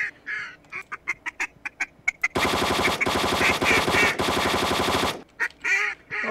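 Scattered duck quacks lead into a loud, continuous full-auto gun burst lasting a few seconds in a bird hunting video game, followed by a few more quacks after the firing stops.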